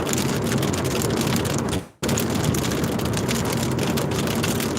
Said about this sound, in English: I hope y'all don't hear that rain hitting the windshield because it's coming down right now.